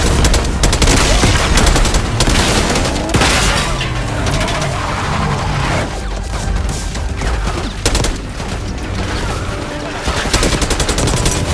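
Call of Duty Black Ops 6 combat in Iraq: dense, continuous rapid gunfire and booming explosions layered into a loud, unbroken battle din throughout.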